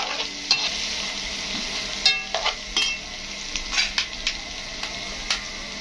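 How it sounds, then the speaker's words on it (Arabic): Offal with cumin and black pepper stirred and tossed in a pan, with a steady sizzle of frying and repeated clinks and scrapes of the utensil against the metal, no voices. "وهفضل بقى اشوح فيها كده"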